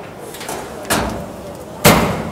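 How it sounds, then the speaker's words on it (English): A commercial dishwasher door shuts twice, each one a sharp, loud thump with a brief ring-off, about a second apart, over a low steady hum. "You close your door and you hit your desired cycle."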